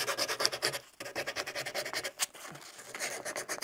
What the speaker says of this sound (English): we can use a fresh piece of sandpaper